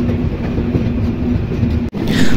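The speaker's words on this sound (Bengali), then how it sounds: "আপনারা দেখতে পাচ্ছেন আমাদের ট্রেনটি আস্তে আস্তে যাচ্ছে" A passenger train slowly pulling away on the Dhaka to Nilphamari line, loud close rumble with a steady low hum and soft rhythmic rattling, a brief dropout near the end before the noise resumes.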